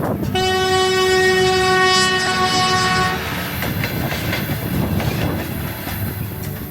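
A Moscow-bound passenger train in Ulaanbaatar, Mongolia sounds a long, loud horn for a few seconds, then rolls past with a rumbling, clattering roar that continues steadily.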